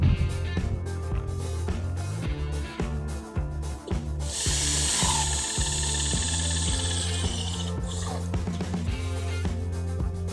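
A power drill drives screws to fasten a rail section to installed clips, four screws at each end, sounding as a loud, steady whir with a sustained high run in the middle, over clattering, rhythmic background noise.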